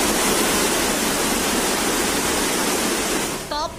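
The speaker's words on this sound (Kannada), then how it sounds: "ಉಕ್ಕಿ ಹರಿದ ತಾಪಿ ನದಿ." The flooded Tapi river in Jalgaon, Maharashtra, swollen by heavy rain and overflowing its banks, gives a loud, steady roar of rushing water that fills the whole stretch, easing slightly just at the end.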